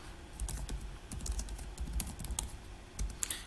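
Typing on a computer keyboard while entering a trading-ledger account name: a quick, steady run of close, light key clicks over a few seconds, with no talk.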